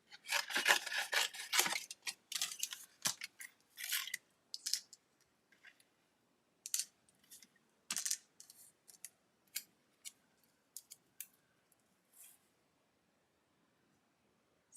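Paper cardstock being trimmed for a slimline birthday card: a flurry of crisp scissor-like snips and rasping cuts at first, then sparser isolated slices with quiet gaps, close and alone.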